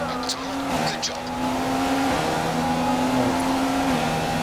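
Formula 1 cars, Grosjean and Hamilton running side by side into the chicane at Abu Dhabi 2015: a loud, close, high engine whine that steps down through gearshifts, continuous for the whole stretch.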